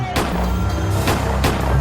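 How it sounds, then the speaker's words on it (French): Three sharp, loud bangs spaced a little over half a second apart, each a sudden crack over a dense, rumbling background. "des coups de feu retentissent"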